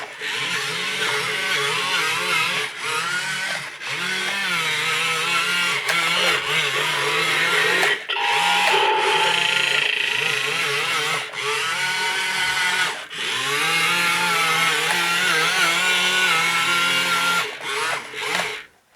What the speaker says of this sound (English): moving them together forth or back will make the Dalek move around